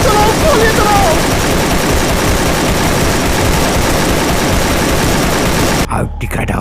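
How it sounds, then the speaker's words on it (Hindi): Dense, continuous bursts of automatic gunfire from a Free Fire battle game fill the scene loudly, with voices faintly mixed in, before the noise cuts off abruptly near the end. "सब लोग मिलकर इसके ऊपर गोलियां चलाओ, गोलियां चलाओ, गोलियां चलाओ"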